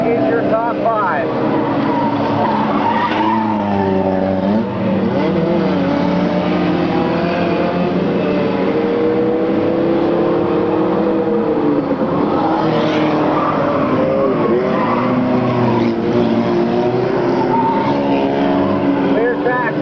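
Race cars roar around an oval track at a 1998 RGS event, a continuous loud engine drone with rising and falling pitch as the pack runs bumper to bumper, under steady announcer commentary.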